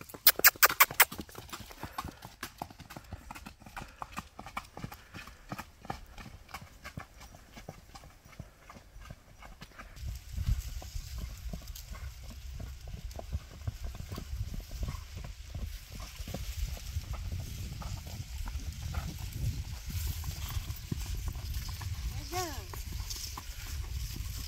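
Mares are led along a road toward another farm, their hooves clip-clopping in a steady, continuous rhythm for a long stretch, with voices in the background.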